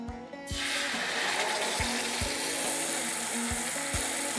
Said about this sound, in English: Once you start feeling that the oil has kind of just begun to release its aroma, I'm going to add in the yellow gravy.